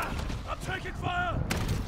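Gunfire in Modern Warfare 3 Zombies, a few loud shots over game effects, with a voice briefly calling out alongside them.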